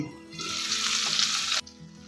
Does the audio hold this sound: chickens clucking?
no